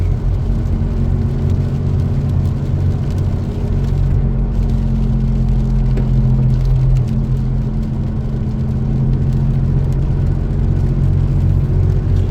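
A truck in need of a tune-up drives along an Oregon mountain road, its engine a constant loud low rumble and whir that stays steady throughout with no voices.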